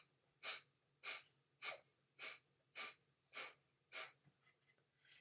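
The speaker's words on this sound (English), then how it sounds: "I was exhaling in short, sharp bursts, pushing my belly out as I was doing it" Seven short, sharp exhalations pushed out from the belly come in an even rhythm about once every half second, each a close breathy burst, followed by a few softer, quieter breaths.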